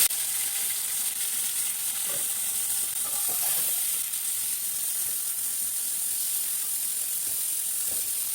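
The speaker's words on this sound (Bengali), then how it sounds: "হলুদ লবণ দিয়ে পনিরটা ভেজে নিই।" Paneer pieces fry in hot oil with turmeric and salt, a constant close sizzle with scattered crackles and a few scraping stirs of a spatula, no voices.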